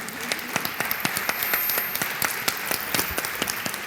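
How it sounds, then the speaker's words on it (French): An audience applauds at a mentoring month launch ceremony, a full, steady wash of many hands clapping with sharper individual claps standing out, sustained for the whole stretch. "Et on applaudit."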